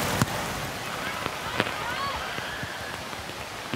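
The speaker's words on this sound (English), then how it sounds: "the rain is pouring" Heavy rain pours at a rugby league match between St George Illawarra Dragons and Parramatta Eels, forming a dense, steady hiss throughout, broken by a few sharp crackles and a faint whistle, with commentators talking.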